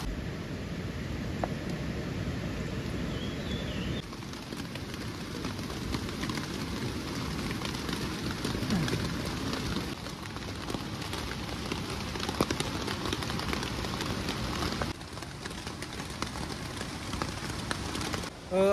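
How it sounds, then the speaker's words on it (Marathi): Heavy rain pours steadily at a jungle campsite during fish cooking, a dense continuous hiss of drops on surfaces close by, with no voices. "आता आपण ते खाऊन घेऊ, कारण तर पाऊस पण जास्त पडायला लागलाय"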